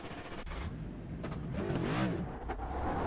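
Next Gen stock race car engine in the iRacing sim at the LA Coliseum track, a steady drone that swells into a revving, rising-and-falling whine midway, then settles back, heard alone with no talk.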